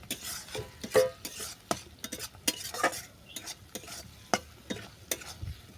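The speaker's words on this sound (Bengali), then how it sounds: "শোল মাছটা ভালো করে মিশিয়ে নিলাম" Snakehead fish being stirred into fried sesame paste in a pan, with irregular scraping strokes of a spatula against metal and faint sizzling between them, close and moderately quiet.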